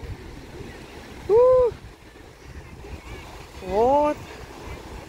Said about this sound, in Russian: Вот это я понимаю море. Волны пошли.